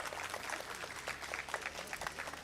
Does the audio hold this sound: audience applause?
yes